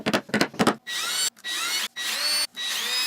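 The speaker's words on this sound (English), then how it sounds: "I traced it, and then drilled out the mounting holes." A power drill bores mounting holes in a wooden piece for a police gear stand, four steady whirring bursts separated by short pauses, close and clear, after a few brief knocks.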